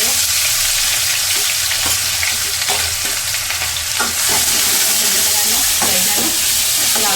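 Onions and ground red chillies frying in a pan with reddened cumin, a loud continuous sizzle with a spoon stirring and scraping through it, close up.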